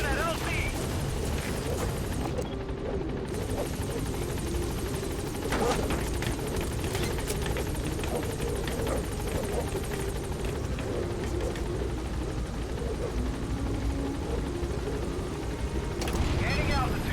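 A helicopter in Metal Gear Solid V flies with a dense, continuous rotor thrum and engine roar, loud and close, persisting for the whole stretch with a brief dip and voices talking over it.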